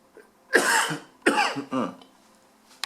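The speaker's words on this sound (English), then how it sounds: "I do apologize for the coughing" Two harsh, raspy coughs close up, one after the other, then quiet.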